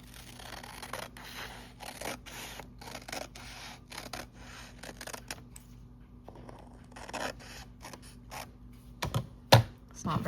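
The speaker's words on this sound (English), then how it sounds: "I'm gonna just trim it by hand." Scissors cut by hand along the raw edge of a paper book page, giving a run of soft, close snipping and rustling strokes with brief pauses and a sharper crunch near the end.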